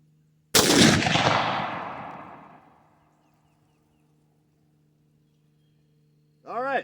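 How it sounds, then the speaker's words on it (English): A single loud shot from a BCA bolt-action rifle fitted with a muzzle brake cracks out close by and decays over a couple of seconds, followed by quiet and then a brief voice at the end. "Alright, gonna fire one off. Alright, first shot."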